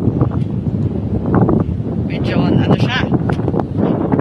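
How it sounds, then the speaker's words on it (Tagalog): Strong wind buffets the microphone outdoors in the Cordillera mountains, a steady rough rumble with louder gusts swelling midway. "It's windy."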